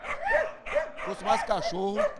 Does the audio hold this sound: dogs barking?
yes